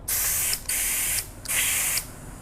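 Loud, sharp air hissing in three long bursts with brief gaps, close by, as air fails to enter a motorcycle tire valve during inflation, with no talking.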